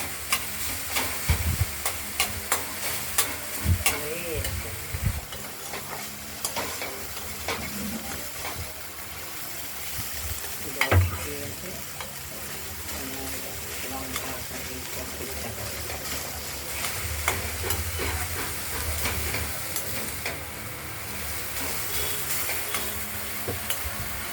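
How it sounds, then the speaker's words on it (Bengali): Chopped banana stem fries in oil in a wok and is stirred again and again, with repeated scraping strokes over a constant sizzle and occasional louder clatters. "অনেকবার এরকম নাড়াচাড়া দিতে হবে ঢাকনা খুলে ফেলে।"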